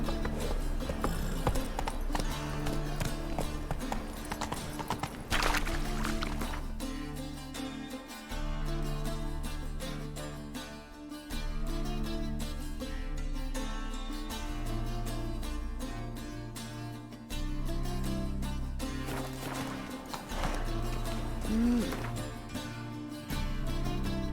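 Roach the horse gallops in The Witcher, steady hoofbeats clip-clopping along under loud, continuous game music with no talk.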